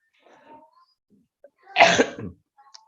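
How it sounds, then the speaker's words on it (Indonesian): A single harsh cough from a person with a bad flu, close and fairly loud, set against near silence with a few faint background murmurs before it. "Saya udah batuk-batuk melulu nih."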